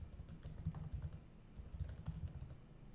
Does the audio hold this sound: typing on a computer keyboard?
yes